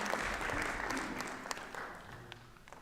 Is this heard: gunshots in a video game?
no